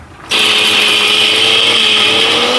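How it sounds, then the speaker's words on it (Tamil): A mixer grinder grinds jaggery in a loud, steady electric whine that starts abruptly after a brief quiet moment and holds constant to the end, with a faint low hum beneath and no voices. "கொஞ்சம் கொஞ்சமாக வெல்லம் இட்டுட்டு அரைக்கணும்."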